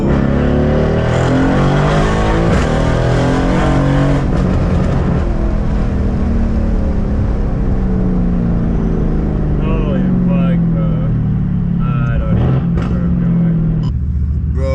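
A Mercedes-AMG C63s with a muffler delete and PTG1000 turbo pulls hard from inside the car, a loud, dense engine roar rising and falling with turbo whoosh, while people talk over it.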